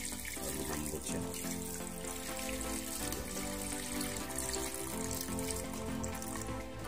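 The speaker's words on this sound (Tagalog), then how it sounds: "Lagyan natin tubig." Water poured into a cooking pot holding beef for kaldereta, a steady close splashing rush that runs throughout, with brief talk heard over it.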